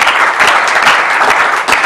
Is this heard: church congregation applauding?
yes